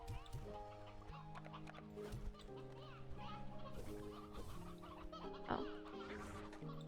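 Chickens clucking in the video game Slime Rancher 2, steady busy clucks over constant layered game music, with a brief spoken exclamation.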